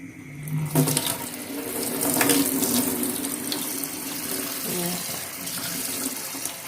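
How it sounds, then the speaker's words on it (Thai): Sago pearls being rinsed under a running kitchen tap, a steady rush of water into a sink with splashing shifts as the pearls are handled, close and fairly loud. "ขั้นตอนต่อไปเราก็เอาสาคูมาล้างน้ำก่อนนะ"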